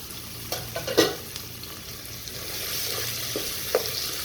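Whole spices for biryani, black cardamom, black peppercorns, cloves, cinnamon pieces, cumin and a bay leaf, fry in a pot with a steady soft sizzle and a few light stirring clinks near the start. No one speaks.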